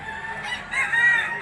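A white-legged golden boy sweater stag rooster at the Lipa livestock auction market in Batangas lets out a short, fairly faint crow, heard alone over a soft background hum.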